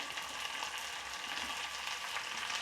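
Petals from a large onion frying over high flame for chili chicken, giving a steady, dense hiss of sizzling oil at moderate level with no voices.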